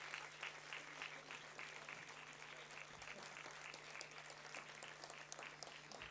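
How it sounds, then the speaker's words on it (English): Sustained audience applause fills a convocation award ceremony hall, a dense steady wash of clapping from a large crowd that continues evenly without a break. "Come on, ladies and gentlemen, get your applause golden."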